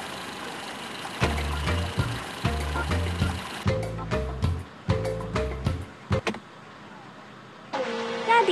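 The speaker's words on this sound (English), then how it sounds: "Raise the car window." A car's electric power window whirring in several short bursts, stopping and starting with brief gaps, close inside the cabin with faint engine noise beneath.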